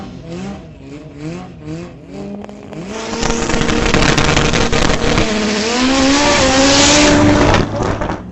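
An all-wheel-drive 1990 Acura Integra race car on slicks at a racing event accelerates hard through several quick gear shifts, then holds a loud, sustained high engine wail nearby.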